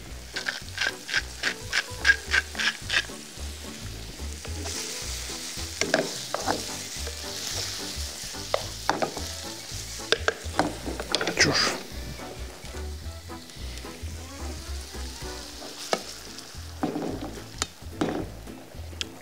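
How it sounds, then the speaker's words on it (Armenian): Pieces of pork fry in a pan, giving a steady sizzling hiss under sharp clattering and scraping from a utensil stirring the meat, with bursts of clicks near the start and toward the end. "Երբ որ խոզը սկսի արդեն մի թեթևել տապակվել"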